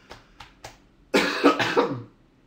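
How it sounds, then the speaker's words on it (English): A few soft breaths or small catches, then a loud burst of several harsh coughs in quick succession, close to the listener. "I'm still coughing."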